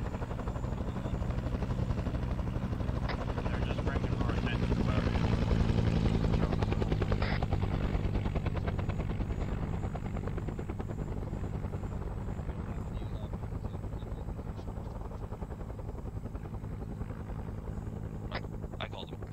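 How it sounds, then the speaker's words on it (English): Helicopters flying overhead in the video game Arma 3 during a Vietnam-era operation, a loud, throbbing rotor drone that builds, peaks and slowly eases away, with radio-style voices briefly heard alongside. "Can you tell the choppers to wave off a bit?"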